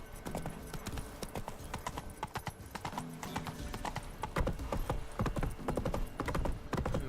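Roach, a horse in The Witcher 3 game, gallops in a fast, dense drumming of hooves with a brief whinny, loud and close, the rhythm continuing steadily throughout.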